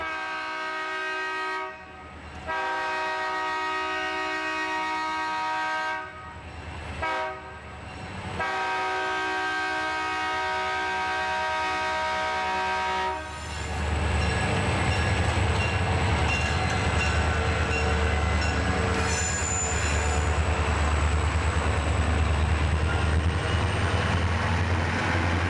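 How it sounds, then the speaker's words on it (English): Eastbound B&O freight locomotives climb a grade at Independence, West Virginia, with long sustained horn blasts broken by short gaps, then a heavy rumbling roar of engines labouring close by. "This is the eastbound daily freight R316 at Independence,"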